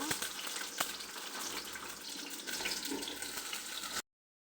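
Onions frying in hot oil with cinnamon and cardamom, a continuous near sizzle with a few sharp stirring knocks, stopping suddenly before a silent tail.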